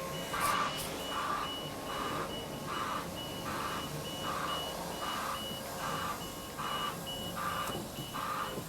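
A Niftylift HR21DE lift reversing slowly. Its reverse alarm gives a steady series of about a dozen evenly spaced beeps over a constant mechanical hum, and no one speaks.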